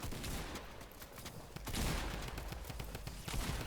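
Fortnite gunfire crackles in dense, rapid volleys of shots within loud, continuous game audio, with no talk over it.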